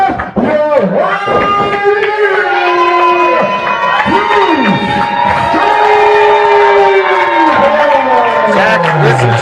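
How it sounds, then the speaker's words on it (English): A fight crowd roars and cheers loudly and continuously at a fighter's ring introduction, with sustained shouting voices and whistles throughout. "listen to that reaction from the crowds to the introduction of Duce Stovall"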